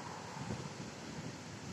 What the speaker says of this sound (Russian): холодный ветер такой.